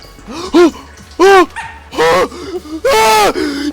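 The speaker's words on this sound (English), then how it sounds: "Yo, why is there a dog in the ship?" A dog barks inside a video game ship, four loud, close yaps spaced about a second apart with short whimpery tails between them.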